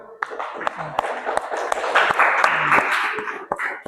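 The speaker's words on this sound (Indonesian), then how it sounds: "Ya, tepuk tangan dulu." A classroom group claps after a score recap, with scattered, uneven hand claps building into a short burst, mixed with murmured voices in a quiet room.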